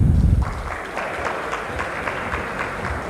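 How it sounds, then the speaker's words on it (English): Moderate, continuous audience applause at a digital mining summit as speakers are called to the stage, following a brief low thump at the start and staying fairly even throughout. "Round of applause."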